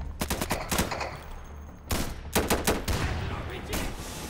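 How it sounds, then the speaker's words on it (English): Gunfire and explosive bursts ring out in the Insurgency shooter game during a grenade throw, a cluster of sharp loud blasts in two bursts with brief gaps between them. "I'm throwing a grenade."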